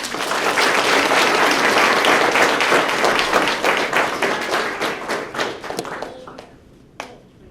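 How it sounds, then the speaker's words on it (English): Loud, close applause from a ceremony audience for newly sworn-in Sarasota police officers, with individual claps distinct in a thick crowd that breaks up into scattered final claps and a lone late clap. "Let's give them a round of applause"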